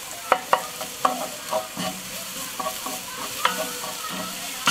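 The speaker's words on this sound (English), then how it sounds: "Stir that in well." Tomato paste is stirred into chili con carne frying in a pot: a low steady sizzle with sharp spoon knocks and scrapes at irregular intervals, close by.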